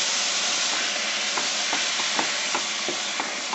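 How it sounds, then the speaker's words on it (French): Medium semolina and water are stirred together by hand in a bowl for couscous, with rhythmic scraping strokes about every third of a second over a constant hiss, close and steady. "Donc juste je mélange."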